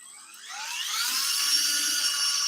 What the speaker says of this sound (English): Just a little piece of sandpaper, and we'll get all that rust off of this screw